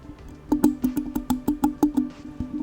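Small metal parts of a microphone shock mount clinking and rattling as it is touched, a quick run of about a dozen light, close clicks over a faint background hum.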